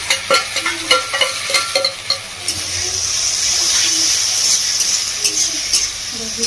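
Ginger garlic paste dropped into frying onions in oil, quick scraping stirs at first, then a loud burst of sizzling that settles into steady frying with more stirring.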